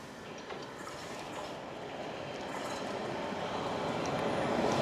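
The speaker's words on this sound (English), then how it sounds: "train's here." A train rumbles in with a rising, broadband roar and rattling wheels, growing steadily louder as it draws closer; no one speaks.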